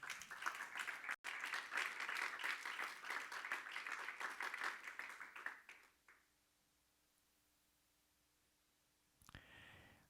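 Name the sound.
church congregation clapping hands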